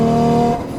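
A tuned Nissan Skyline GT-R with a BMW seven-speed dual-clutch transmission, running about 25 pounds of boost, drones loudly from inside the car on a canyon road, a steady engine tone that eases off after half a second.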